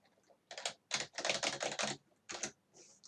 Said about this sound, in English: just type in the rest of the data